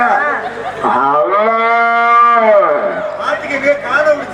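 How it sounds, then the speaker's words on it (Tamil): Cow mooing loudly close by, one long drawn-out low call with a rising and falling pitch, framed by brief rustling and background noise at either end. "பசு மாடு கூப்பிடுது"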